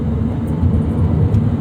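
A 2001 BMW Z3 3.0i roadster's engine revs steadily toward a 6,500 RPM redline, a loud, continuous, dense drone heard up close with no talk over it.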